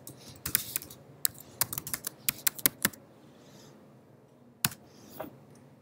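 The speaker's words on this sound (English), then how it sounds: "I'm going to type in Panera Bread." Rapid bursts of typing on a computer keyboard, with close, crisp keystrokes in quick clusters and a few isolated taps afterward, as a search entry goes into an app during a user test. No one speaks.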